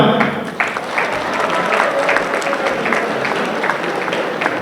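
Dinner audience at a welfare society's annual dinner applauding loudly and steadily, dense clapping filling the room throughout, with a faint voice or crowd murmur underneath.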